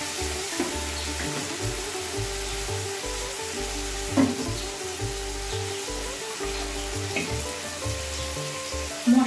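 Ground spice paste fries in hot oil for a hilsa curry, giving a steady sizzle with stirring scrapes and a few clinks, under a continuous low background hum.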